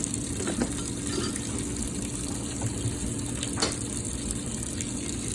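An old washing machine fills with water, a steady close rush and hiss of inflowing water with a low mechanical hum throughout.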